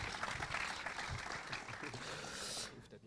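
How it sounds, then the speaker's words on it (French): Applause from an audience at a live show in a Lorient cinema, a steady faint patter of clapping that holds for a few seconds before fading. "Et on peut encore l'applaudir pour cette magnifique take."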